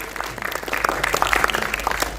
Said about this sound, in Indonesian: Kita berikan tepuk tangan ya untuk pada Indro.